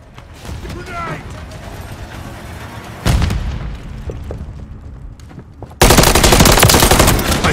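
Grenade blast and bursts of automatic gunfire in the video game Call of Duty MW III beta, with rapid firing, a sharp explosion near the middle and a loud, dense volley at the end, over game voices and radio chatter.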